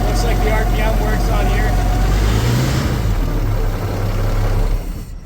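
An old marine flathead engine that had sat for years in a field runs loud and close with a steady low drone, its pitch shifting slightly before it cuts off near the end, while someone talks over it.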